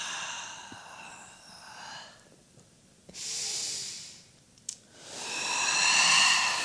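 Heavy breathing during a Pilates swan backbend on the mat: quieter breaths give way to two long, loud, airy exhalations, close to the microphone.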